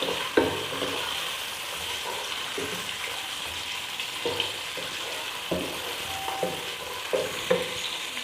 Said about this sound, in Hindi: इन सारी चीज़ों को मैं थोड़ा सा, बिल्कुल थोड़ा सा रोस्ट करूंगी, बहुत ज़्यादा नहीं करना।